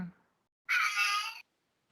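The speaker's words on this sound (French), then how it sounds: "Le chat s'en mêle aussi." A cat gives a single meow lasting under a second, clear and fairly close, after a brief low murmur at the start, with silence afterward.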